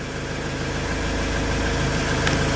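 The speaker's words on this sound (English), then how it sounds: "as you can hear, the engine is running" A RAM ProMaster 3.0L engine with its check engine light on and low-power limp mode runs at idle, a steady close rumble with an even low-pitched pulse and no voices.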